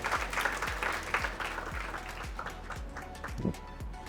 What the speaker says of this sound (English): please help me welcome a round of applause for Miss Maria Hegante